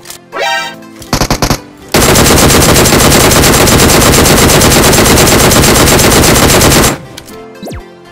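Bursts of DP-28 machine gun fire in PUBG Mobile: a few short shots, then one loud, sustained rapid-fire volley lasting about five seconds before it stops abruptly, with faint game sounds on either side.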